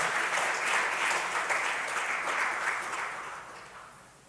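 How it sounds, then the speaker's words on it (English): A crowd applauds at the official launch of a gender programme in Nigeria, a dense steady clapping that holds strong and then gradually fades out near the end. "I think you please give her another round of applause"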